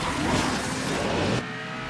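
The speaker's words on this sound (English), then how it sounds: "You heard the whoosh of the car coming beside me" A loud engine roar of a car in the racing game Asphalt 9 surges past at close range, then cuts off abruptly to a quieter background hum.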